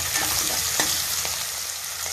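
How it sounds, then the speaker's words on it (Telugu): Tomato pieces, curry leaves and ginger-garlic paste fry in a tablespoon of oil on a stove, giving a steady close sizzle with a few soft stirring scrapes and no voices. "అన్ని వేగుతూ ఉన్నాయి."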